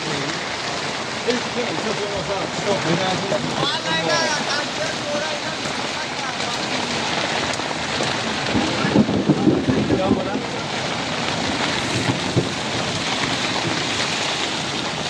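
A heavy rain and wind storm in Bihar: dense, steady downpour and gusting wind hit the microphone throughout, with people talking under the roar.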